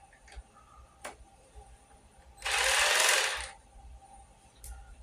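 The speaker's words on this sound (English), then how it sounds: "The ratchet going the right way." Ratchet turning a 13 millimeter nut while assembling a Vevor rolling garden seat, a close, fast clicking burst of about a second amid a few scattered ticks and knocks, no talk.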